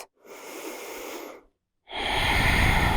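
Two slow, deep yoga breaths during a backbend workshop, a soft inhale and then, after a short pause, a louder, rushing exhale, close and alone with no talk.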